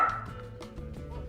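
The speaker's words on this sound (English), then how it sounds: "Stop barking at people." A pet dog named Spock gives a few short, yappy barks and whimpers at close range over a steady low background hum, with no one speaking.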